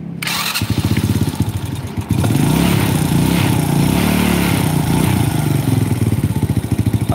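A Honda Supra 100 motorcycle with a misfiring engine is started after a brief pause, then idles close and loud with a steady rapid putter and slight uneven throb.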